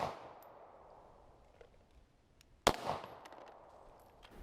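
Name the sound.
Glock 19 pistol being fired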